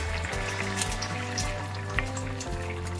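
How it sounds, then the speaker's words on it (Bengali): Bengali fish curry with potatoes bubbling in a pot, a steady close simmering hiss with small popping bursts throughout, no voices. "মাছের ঝোলটা আমার ফুটে উঠেছে।"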